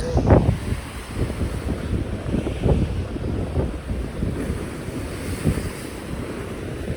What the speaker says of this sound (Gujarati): અમે લોકો ત્યાં દરિયા કિનારા આવી ગયા હતા દરિયો તમે